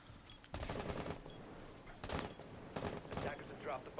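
Gunfire in Rainbow Six Siege, several bursts of rapid shots at moderate distance, fairly faint, with brief gaps between volleys and a voice talking over them.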